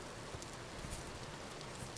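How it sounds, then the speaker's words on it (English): Rain falling in the survival video game Vintage Story, a faint, even hiss of steady downpour with soft scattered patter and no voices. "Lot of rain."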